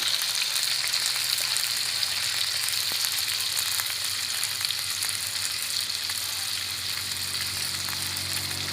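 Pork intestines deep-frying in hot oil give a steady, close, dense sizzle and crackle that continues evenly throughout, with no talking.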